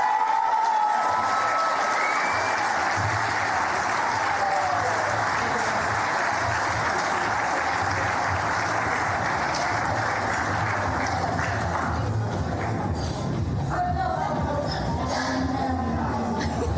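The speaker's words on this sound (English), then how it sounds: "Let's have another round of applause for Malcolm, everybody." An awards-night audience applauds Volunteer of the Year Malcolm Hales at a sports awards ceremony, a long, loud, sustained wash of clapping with crowd shuffle and faint cheers, a voice briefly heard near the end.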